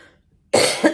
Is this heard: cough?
yes